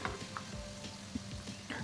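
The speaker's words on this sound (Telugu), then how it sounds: "అలాగే మిగిలినవి కూడాను సేమ్ ప్రాసెస్లో అలాగే ఫ్రై చేసుకొని తీసుకోవాలి." Potato twisters frying in hot oil for a street-style snack, giving a steady low sizzle with scattered soft crackles and pops, close and fairly quiet, with no talking.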